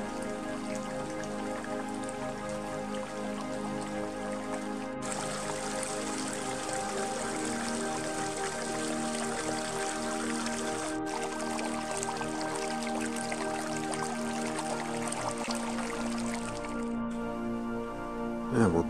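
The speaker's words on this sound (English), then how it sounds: "we have these nice soothing sounds of the creek" Steady rushing water of a mountain creek in Rocky Mountain National Park flows continuously, a broad bright wash with a faint hum beneath, sustained and fairly close throughout.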